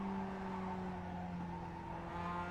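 A simulated race car, a Mazda MX-5, Skip Barber or Spec racer in iRacing at Laguna Seca, accelerates with a steady, tonal engine drone that rises slightly in pitch, fairly faint and without talk.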